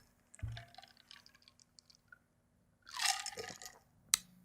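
Cold Atomy coffee is sipped from a glass in a quiet room: a soft clink, a few faint small sounds, then a short burst of slurping and swallowing ending in a sharp tap of the glass being set down.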